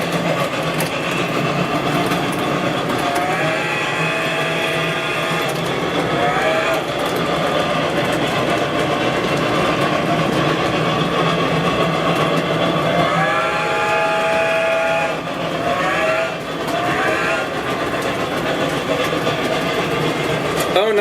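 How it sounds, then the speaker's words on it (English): Model train locomotive 4501 running with a TCS WOW sound system, giving a steady, loud engine rumble with chuffing and rail clatter throughout, plus a couple of brief whistle-like tones partway through. "Now we can listen to the TCS wow sound in all of its glory."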